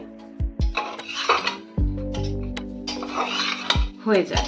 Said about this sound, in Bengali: কিছুক্ষণ এইভাবে ভালো করে নেড়ে ছেড়ে নেব